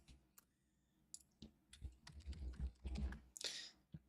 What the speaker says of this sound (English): Just typing away.